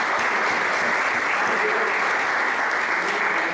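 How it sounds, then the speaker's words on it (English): Audience applause at a recorded talk event, a dense steady clapping from a crowd that stays even and loud throughout the short stretch. "give them a round of applause"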